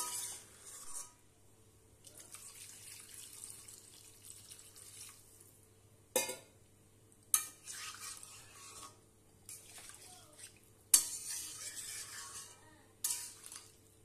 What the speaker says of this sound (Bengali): এবার একটু নাড়াচাড়া করে আমি এর মধ্যে জল দিয়ে দেবো।